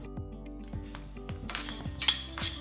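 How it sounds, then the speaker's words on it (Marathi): Wheat grains dry-roasting in a pan give a steady run of small crackles and clinks, with several sharper ticks spaced about half a second apart. The sound is close and moderately quiet, and no one speaks over it. "गहू सुद्धा आपले मस्त असे भाजून गेलेले आहेत, मस्त त्याच्यामधून असा चटचट आवाज येत आहे"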